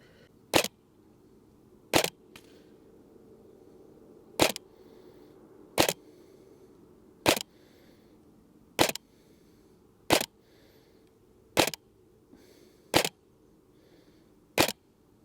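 A Cyma CM.041J MP5A3 airsoft replica fires 0.23 gram BBs, sounding as ten sharp, evenly spaced single shots about every one and a half seconds over a quiet outdoor background.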